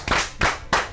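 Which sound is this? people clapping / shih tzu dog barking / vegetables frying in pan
people clapping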